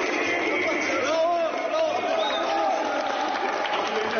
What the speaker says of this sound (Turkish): Evet cevabının ardından salondan alkışlar yükseldi.